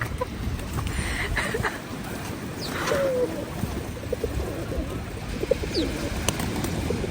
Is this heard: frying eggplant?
no